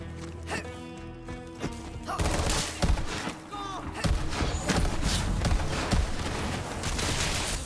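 Rapid bursts of gunfire and impacts from the shooter game Borderlands 3 rattle over a busy game soundtrack, with a short lull before heavy repeated shots and crashes; voices talk briefly in the mix.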